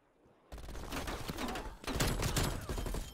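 Rapid gunfire bursts from the Mastercraft weapon in Call of Duty Black Ops Cold War, a dense crackling volley that starts abruptly after a short silence and continues loud, with a second heavier burst near the end.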